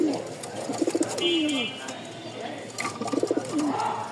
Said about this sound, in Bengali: ফাটাফাটি ডাকের রাজগোল্লার নর